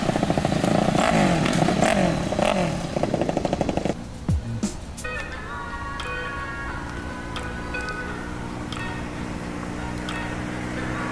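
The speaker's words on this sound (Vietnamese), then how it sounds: "Mô tô vượt địa hình." An off-road motorcycle engine runs in Las Vegas, a loud, steady buzzing drone with rapid clattering pulses, then easing into a lower, even hum with brief sharp knocks.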